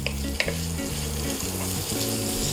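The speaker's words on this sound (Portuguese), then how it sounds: "E então para isso vamos aqui refogando." Onions softening in a pan, a steady moderate sizzle with a few utensil clicks and scrapes as they are stirred, and no voices.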